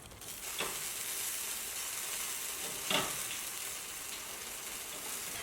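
Chicken legs sizzle steadily in a hot pan, a dense, even hiss with a couple of brief louder bursts as the pieces are turned over.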